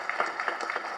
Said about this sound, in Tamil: பேரரசு அண்ணன், அவருக்கு நீங்கள் ஒரு வாட்டி கைத்தட்டணும்னு ஆசைப்பட்றேன்